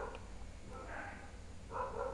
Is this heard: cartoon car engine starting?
no